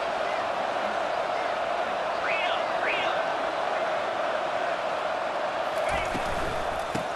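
A stadium crowd in the College Football 25 video game roars in a steady, dense wash of cheering with a few whoops rising above it, loud and continuous throughout, under a commentator's voice.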